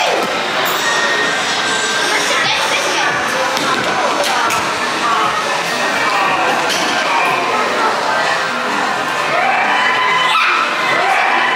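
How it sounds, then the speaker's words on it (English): A lively holiday-park entertainment crowd of children and adults cheers and claps for a young girl, a dense, loud wash of shouting and clapping sustained throughout with voices mixed in. "Give a massive applause to Amelia."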